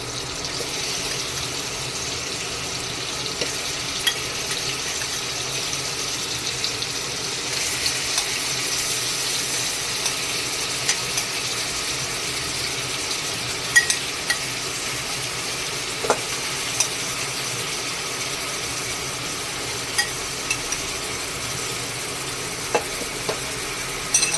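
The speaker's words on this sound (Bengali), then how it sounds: "এটা পুরোটাই বাটারে রান্না হবে এখানে কোনো তেল লাগবে না এখানে চিকেনগুলো দিয়ে দেবো এবার" Chicken frying in butter for butter masala, with a constant broad sizzle that runs the whole time and occasional light taps and scrapes as it is stirred.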